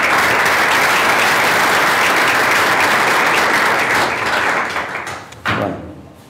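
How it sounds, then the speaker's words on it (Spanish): An audience at a talk on sound and technology applauds in a loud, dense, continuous wash of clapping that thins out toward the end, followed by a single thud and a fading tail. "Les pido por favor un aplauso para Wade Matthews."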